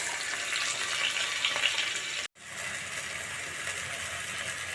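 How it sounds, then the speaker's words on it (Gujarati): Sliced potatoes and onions hit hot oil in a pan, a loud continuous hiss and sizzle close by, broken by one sudden momentary dropout before the frying resumes just as strongly. "તો આપણું તેલ થઈ ગયું છે, બટેટા નાખી દઈશું. આપણે ડુંગળી પણ નાખી દઈશું."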